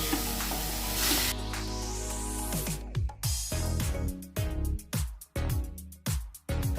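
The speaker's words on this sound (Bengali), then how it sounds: "কড়াইটা গরম হয়ে গেছে, এখন আমি এই আমটা দিয়ে দেব" Mango pulp hits a hot kadai with a loud, bright sizzle that hisses steadily, then fades into a string of short, uneven scraping and spattering bursts as the pulp is stirred.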